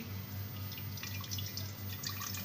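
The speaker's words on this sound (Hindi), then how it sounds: "अब मैं इसको छान लूँगी।" Apricot juice poured over ice is strained, giving a steady patter of close, soft drips.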